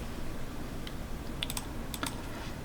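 Computer keyboard keys pressed for copy and paste shortcuts while coding, a few sharp clicks scattered over about three seconds against a steady background hiss, with no talking.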